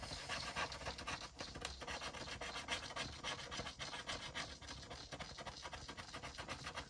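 A scratch card is scratched with quick, repeated rasping strokes, a close, moderately soft and continuous scraping rhythm with no speech.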